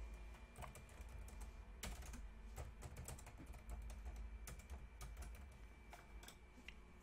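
Keys clatter on a computer keyboard as text is typed into a design app, a faint but continuous run of close, uneven keystrokes with a few sharper taps and no speech.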